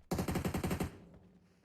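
A short burst of automatic gunfire from PUBG Mobile: about eight rapid, evenly spaced loud shots lasting under a second, then a fading tail with no talk.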